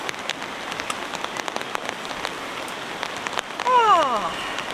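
Rain falls on a solo campsite as a soft steady patter with scattered sharper drop hits, and near the end a brief warbling sweep like a bird call rises over the rain; no one speaks.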